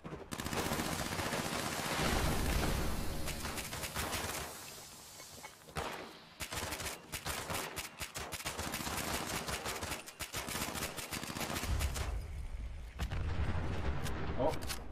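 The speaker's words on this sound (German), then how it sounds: "Oh, das explodiert mal wieder alles." Explosions and rapid gunfire in the video game Fallout 76 make a dense, loud barrage of bursts and booms that pause briefly midway, then resume in choppy, continuous volleys.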